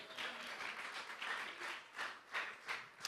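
Church congregation applauding, a soft, fairly distant patter of many hands with rhythmic swells toward the end, no talk over it.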